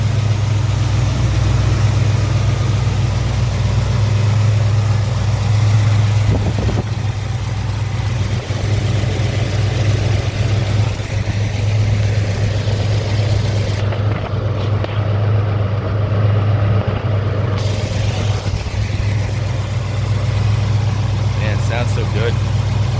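A 1970 Chevrolet Chevelle SS with a 396 V8, four-barrel carburetor, electronic distributor and cowl induction idles steadily and loudly up close, its deep low rumble unbroken across the whole stretch.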